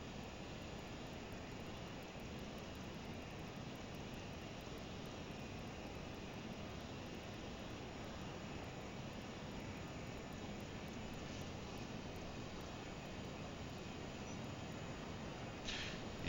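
A LearJet in Microsoft Flight Simulator 2020 climbs with a steady, even roar of jet engine noise, held at a constant level throughout with only a faint change in tone near the end.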